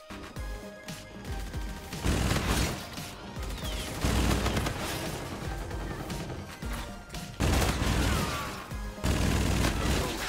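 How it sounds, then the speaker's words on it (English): Video game gunfire from Call of Duty Infinite Warfare during a kill streak: loud, dense bursts of shots, crashes and explosions roll on almost without pause, rising in several surges over a busy game soundtrack. "it comes from Call of Duty Infinite Warfare, and it really speaks for itself. I go on a massive little kill streak here."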